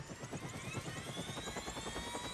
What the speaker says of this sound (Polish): Ej, helikopter to jest to, dźwięk silnika helikopter.